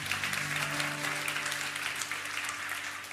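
Church congregation applauding during a Korean worship service, steady sustained clapping from a large crowd, heard from a distance at moderate level with a low hum beneath.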